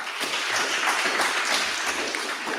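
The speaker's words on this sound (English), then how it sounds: "Lots of applause, but let's give one more round of applause for all of our grant recipients today" Applause from an audience at a press conference for grant awards, a steady wash of clapping from many hands lasting a few seconds with no voices over it.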